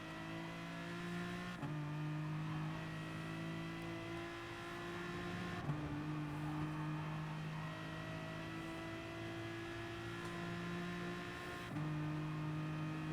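A race car engine drones steadily in a Gran Turismo Sport online race, its buzzing pitch climbing and then dropping sharply at each upshift, about three shifts, close and constant with no talk.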